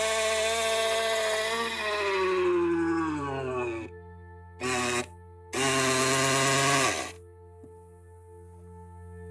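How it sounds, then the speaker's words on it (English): A power drill anchors a newly set post during septic-system work, its motor whining loud and close in one long run, then a short burst and a second longer burst before falling quiet. "let's see if it'll actually work"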